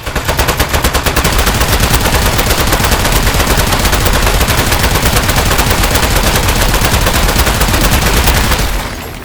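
Rapid gunfire rattles in the Aperture Desk Job game, a loud, dense, continuous stream of shots for several seconds before cutting off abruptly near the end.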